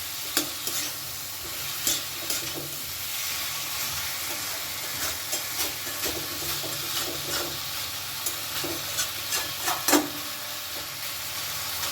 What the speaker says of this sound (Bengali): গ্যাসের ফ্লেমটাকে এ সময় মিডিয়ামে রেখে আমি আর একটু নাড়াচাড়া করে নিচ্ছি